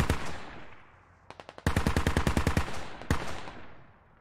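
Machine gun fire in the video game Squad: a single shot, a short burst, then a long rapid stream of loud, evenly spaced rounds, ending with one last report and fading echo.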